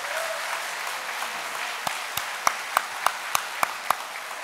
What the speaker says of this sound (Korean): 우리 박수 한번 크게 해주시죠.